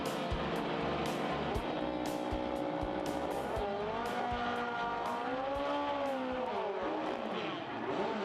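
Top Sportsman drag racing cars at Santa Pod's MOPAR Euronationals roar loudly and continuously, engine pitch climbing and sagging, with sharp crackling pops and a brief tire squeal up close.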